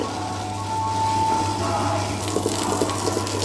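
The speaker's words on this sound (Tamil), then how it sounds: "தண்ணி ஊற்றிக்கிட்டு அரைச்சிக்கலாம்" Water is poured into a wet grinder while idli batter of soaked urad dal is being ground, a steady watery rush over a low motor hum, close and continuous.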